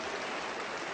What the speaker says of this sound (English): it'll be a great cheer here for Louis Bairstow